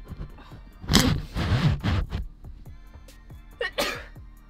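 Two sharp sneezes burst out, the first loud and close with a quick follow-up, then another a few seconds later amid faint room noise.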